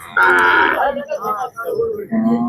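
A bull moos loudly and close by, a long drawn-out low call that wavers and trails off, followed by another shorter moo.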